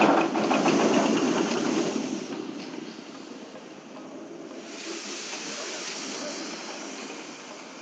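Engine driving a gearbox on farm equipment, rated at 16 horsepower, running steadily with a buzzing mechanical drone that is loud at first, eases after two seconds and then holds at a lower level, with no talk.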